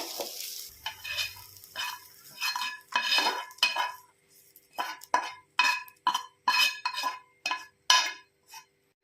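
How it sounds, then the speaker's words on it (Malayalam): A spoon scrapes and clinks repeatedly against a metal pot while transferring an egg and okra stir-fry into another pot, a series of quick, close scraping strokes that speed up toward the end. "അതിനുശേഷം നമ്മളത് മറ്റൊരു പാത്രത്തിലേക്ക് മാറ്റുക"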